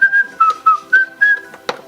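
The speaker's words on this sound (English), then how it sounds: "And we whistle while we work." A person whistles a short tune in clear, pitched notes, five or six bright phrases in quick rhythm, close and loud, while building a birdhouse with children.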